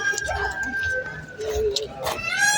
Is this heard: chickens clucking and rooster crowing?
yes